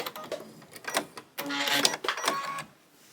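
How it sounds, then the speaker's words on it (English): A sewing machine running a tack-down stitch to finish a quilt seam, with short bursts of rapid mechanical whirring and clicks separated by brief pauses, close and fairly quiet. "now I'm going to use that tack down stitch that I have on my machine"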